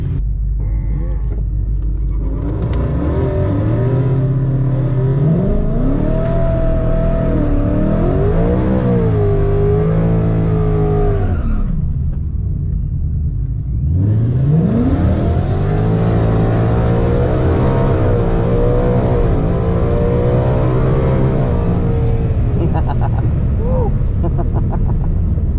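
Supercharged Ford Mustang GT engine pulling hard with loud rising revs, a gear-change dip midway, then another long climbing surge, heard close from inside the car with a speaking voice faintly underneath.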